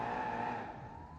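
An old-style police car siren wails in the driving game BeamNG, a sustained loud tone that holds and then slowly glides upward over a rumbling engine.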